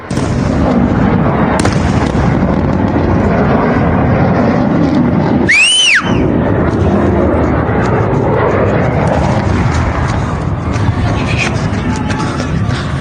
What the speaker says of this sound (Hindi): एक के बाद एक फाइटर्स ने गोले दागने शुरू किया, अटैक किया पायलट को यहां से उड़ा ले जाने के लिए।